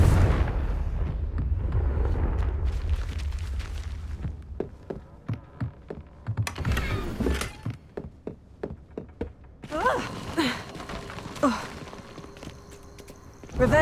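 Confringo fire spell blasts in the video game Hogwarts Legacy, several sharp fiery bursts and thuds over low rumbling, mixed with footsteps and other game effects.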